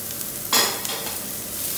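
A handful of curry leaves and a dozen green chillies hit hot oil and get stirred for a chicken shallot thoran, giving a sharp burst of sizzle that settles into a steady crackle.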